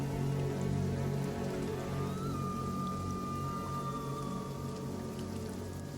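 Steady rainfall in a fantasy audio drama, a dense continuous hiss of rain on surfaces with a low background hum and a faint tonal whine, no voices.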